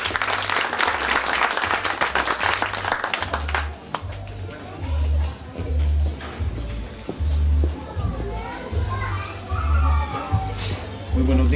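A crowd at the opening of a community mediation unit gives a strong round of applause welcoming the mayor. The clapping is dense for about four seconds, then thins out as low, rhythmic background noise and scattered voices continue.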